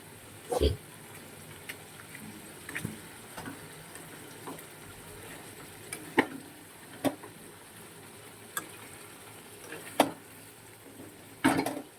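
A crab curry being stirred in a pot, with scattered scraping and clinking of a spoon against the metal at irregular intervals over a low kitchen background, a few louder knocks standing out.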